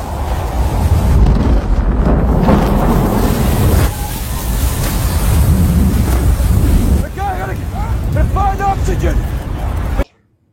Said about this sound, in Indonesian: Terlihat awan hitam, petir, dan angin kencang dan tiba-tiba badai besar menghantam mereka.